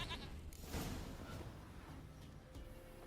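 A goat bleats in The Witcher 3 video game, a short wavering nasal cry close up over a busy in-game ambience, fading after a second or so.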